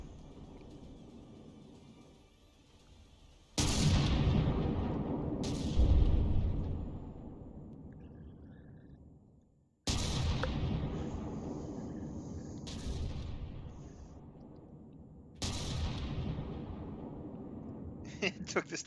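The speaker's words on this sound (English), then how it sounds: "it's lobbing cram shells at the Retribution." CRAM cannon shells fire in the vehicle combat game From The Depths, three heavy booming blasts spaced several seconds apart, each decaying in a long rumbling tail.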